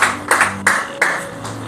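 A church congregation clapping for the Lord, four sharp claps spaced evenly a third of a second apart, close and fairly loud, with no cheering voices standing out.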